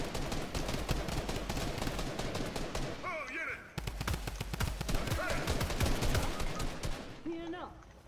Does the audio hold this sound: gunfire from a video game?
yes